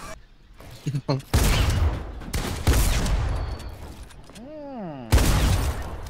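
Rapid SMG fire in a video game, loud dense bursts of automatic shots in several clusters, with a player's excited voice heard between and over them.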